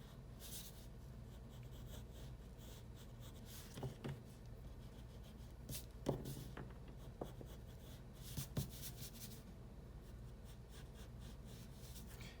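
A pencil sketching a metal spoon on paper, soft continuous scratchy strokes with occasional rubbing from an eraser, close and quiet, no voices.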